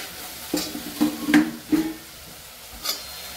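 A spatula scrapes and stirs a spice tempering of turmeric, red chilli powder and masala in a pan, sounding as a few distinct clinks and scrapes over a faint sizzle.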